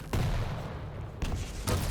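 A rocket launch and blast in a Quake arena match, heard as two or three sharp, loud bursts spaced through the moment over steady low game rumble.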